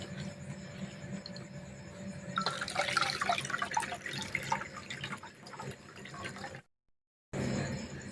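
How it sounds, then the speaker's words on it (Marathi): Water sloshing and splashing as moth beans are rinsed for sprouting, a continuous wet swirling that grows busier midway, then a brief silent break before it resumes. "आम्ही परत पाण्याने धुवून घेते म्हणजे जे घाण पाणी ते पूर्ण निघून जाईल"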